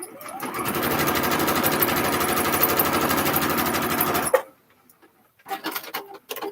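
A sewing machine stitches fabric scrap pieces onto a quilt-as-you-go bag panel in a fast, loud, even mechanical chatter for about four seconds, then stops, followed by a few faint rustling handling sounds.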